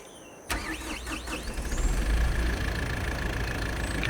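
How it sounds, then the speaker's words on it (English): A tractor engine in the Farming Simulator 22 game cranks with a sharp start, turns over with a few rough pulses, then settles into a steady, fairly loud idle with no talk. "Let me grab a tractor."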